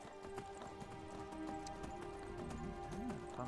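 Horse hooves clip-clopping steadily while riding across a hillside in Skyrim, a regular rhythmic trot under a continuous layer of game music and ambience, moderately close and fairly quiet.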